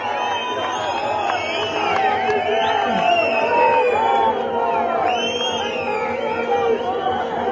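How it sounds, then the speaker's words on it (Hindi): A packed political rally crowd in Himachal Pradesh welcomes Priyanka Gandhi with sustained loud cheering, whoops and dense chatter, a steady roar of voices holding at full level throughout. "जोरदार तालियों से स्वागत करें"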